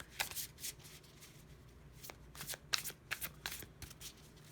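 Rapid riffling bursts of tarot cards being shuffled, close up, in several quick runs with short pauses between them.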